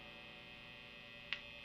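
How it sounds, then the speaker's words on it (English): A 2007 Gibson Les Paul Custom with a natural maple fretboard, played through distortion, gives off a steady, quiet electrical buzz that stays even throughout, broken only by one faint click near the end. "my distortion on, this is kind of what the buzz sounds like"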